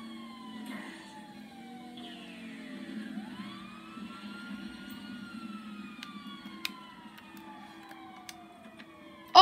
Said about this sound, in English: You're coming in a bit fast, aren't you, ambulance?